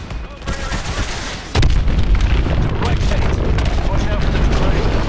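Missile strikes hit a hydroelectric dam in the video game Advanced Warfare, a loud, dense barrage of booming explosions that swells into a sustained roaring rumble, with radio chatter under the din.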